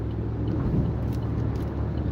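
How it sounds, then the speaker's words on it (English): Busy street traffic surrounds a car on the road, a steady close low rumble of engines and tires that runs unbroken for about two seconds with no talk. "There's a lot of traffic."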